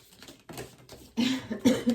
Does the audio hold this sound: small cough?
yes